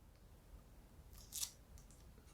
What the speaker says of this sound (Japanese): ちょっとテープで貼ってみますね。